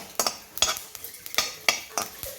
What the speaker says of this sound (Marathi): आता आपण खोबरं पण भाजून घेऊया